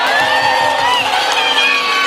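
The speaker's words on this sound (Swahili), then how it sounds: "Pigia yeye makofi." A political campaign crowd roars and cheers loudly and continuously, with overlapping shouts and voices, for the young candidate Beyd Were.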